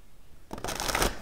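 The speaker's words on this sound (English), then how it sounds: "Now, as I shuffle, Gemini, 2 announcements." Tarot cards are shuffled by hand, a quick close riffling burst that starts after a short quiet moment.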